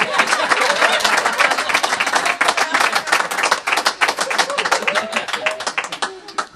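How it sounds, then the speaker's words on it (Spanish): Audience applause and clapping for a comedian at a live Córdoba humor show, a dense, sustained roar of hands across the whole stretch, loud and close, with crowd voices mixed in and fading slightly at the end. "Fuerte el aplauso para el"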